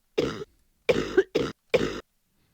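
Four short, throaty coughs picked out to serve as a snare hit in a beat, evenly spaced bursts over a couple of seconds, close and fairly loud with silence between them.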